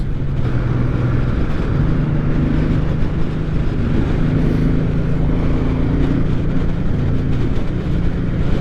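A 2023 Suzuki Boulevard M109R B.O.S.S cruiser motorcycle runs at about 70 mph in fourth gear, with a steady, loud engine drone and wind rush that holds unbroken throughout.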